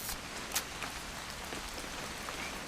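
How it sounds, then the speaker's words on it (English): Steady rain in the video game What Remains of Edith Finch, a soft continuous hiss of falling drops with a few sharper drip ticks, moderately quiet and even throughout. "It's gonna rain the whole weekend,"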